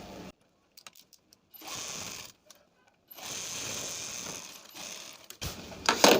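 A sewing machine stitches a suit in several short, mechanical bursts separated by silences, close by and moderately loud, ending with a louder clatter.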